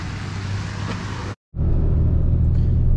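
Ford Powerstroke diesel pickup cruising down the road while towing another Ford truck, a steady low engine rumble and road drone that cuts out for a brief moment of silence, then resumes just as loud.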